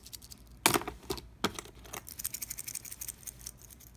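A metal watch bracelet on a Tissot Seastar or Orient Blue Mako is shaken, giving bursts of light jingling clinks and a rapid rattle, close and alone.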